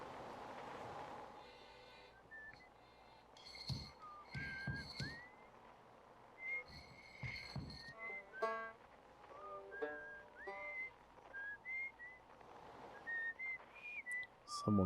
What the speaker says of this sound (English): Someone's whistling.